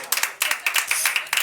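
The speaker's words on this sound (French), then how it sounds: "on peut l'applaudir, c'est son anniversaire aujourd'hui" Applause for a birthday at a restaurant, a short burst of brisk hand clapping from a small group of diners, close and lively, lasting just over a second with no talk over it.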